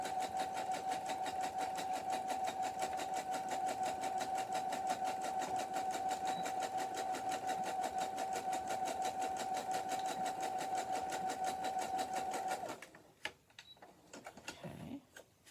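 Sewing machine stitching a zigzag seam on a fabric soap pocket, a steady fast mechanical whir with a constant hum that runs close and loud for about twelve seconds, then stops and gives way to a few quiet handling clicks.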